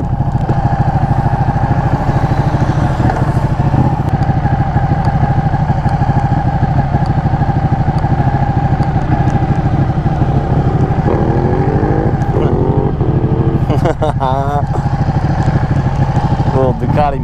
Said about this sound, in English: Little Ducati monster.